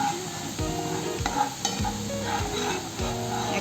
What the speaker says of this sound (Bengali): এখন আমি অন্যান্য মশলাগুলো দিয়ে দিচ্ছি। কিছু সময় ভালো করে মশলাগুলোকে ভেজে নিতে হবে।